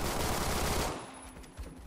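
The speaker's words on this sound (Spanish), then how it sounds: "Para que se asuste, no sabe dónde vienen los disparos." Rapid automatic gunfire in the Roblox shooter game Phantom Forces, a dense loud burst lasting about a second, then a brief pause and a fainter shot.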